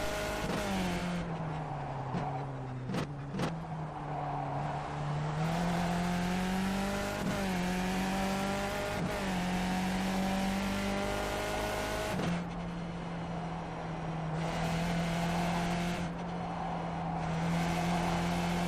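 A Skip Barber race car in the iRacing sim at Sonoma: a loud, continuous engine drone held close throughout, its pitch climbing and dropping repeatedly as the throttle is revved and the gears shift.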